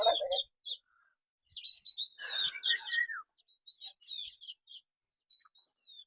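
Small birds chirping at sunset near a village house, bright quick tweets and short trills in scattered bursts, fairly close and clear against a quiet background.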